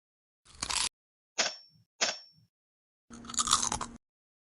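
A crunch sound effect made for a game-jam game: four separate close, sharp bites or crunches, short snaps in the middle and a longer crackling crunch at the end, with silence between them.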